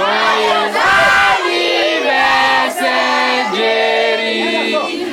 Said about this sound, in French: avec des cris de joie et acclamations des proches